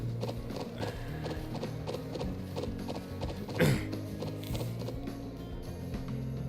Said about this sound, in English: Oh, we're riding horses.